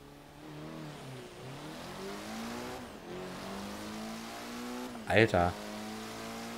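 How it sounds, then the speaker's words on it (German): A four-cylinder all-wheel-drive car accelerating hard in Forza Horizon 3, the engine climbing through gears in rising tonal sweeps with brief dips at shifts, plus a short loud burst near the end, under a voice. "Hier versuch mal kurz den Wagen zu beschleunigen."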